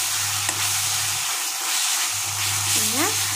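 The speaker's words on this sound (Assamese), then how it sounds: "শাকখিনি পূৰা ভাজি ল'ব লাগিব" Greens and madhusuleng sour leaves frying in a pan give a steady, close sizzle and hiss with a low stove hum underneath, stirred now and then.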